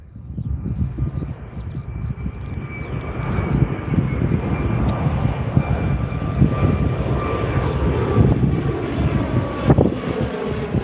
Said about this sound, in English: Got an A321 now, Mr. Parton.